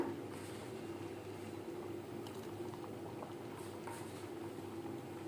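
Toor dal and tomato boil in a pot, a soft, steady bubbling and simmering that stays close and faint without any talk over it.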